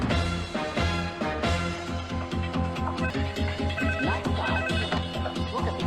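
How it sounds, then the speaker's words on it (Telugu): A phone rings with a melodic electronic ringtone in an office setting, repeating tonal bursts in a steady pattern at moderate level with no one talking over it. "శ్రీనివాస్. ఎస్, నీకు ఫోన్"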